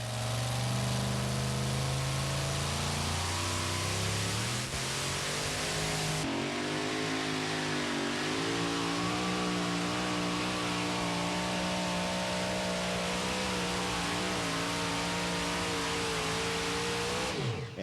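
A powerful pulling tractor engine roars and revs at a tractor pull, its pitch climbing in sweeps, dropping after a gear change, then straining upward again under heavy load, loud throughout.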